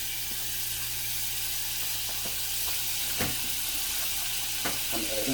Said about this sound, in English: what I'm going to do is add 1/3, which is like 3 tablespoons of butter